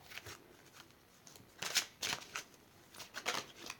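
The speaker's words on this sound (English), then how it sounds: "So I'm going to shuffle this deck." Soft riffling and flicking of tarot cards being shuffled, quiet and close, in a series of short bursts.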